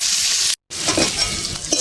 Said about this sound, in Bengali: পেঁয়াজটা কত সুন্দর ভাজা হচ্ছে দেখুন।